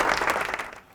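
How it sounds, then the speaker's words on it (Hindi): A crowd at an Islamic quiz competition gives a brief burst of applause for a correct answer. The clapping starts fairly loud and fades away within about a second. "सही जवाब है जी, तालियां हो जाए।"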